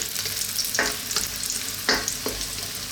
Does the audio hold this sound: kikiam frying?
yes